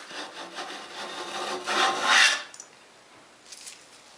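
A hand plane cuts a spring joint in a wooden board: one long, steady rasping stroke builds louder toward its end and then stops, followed by a faint brief scrape.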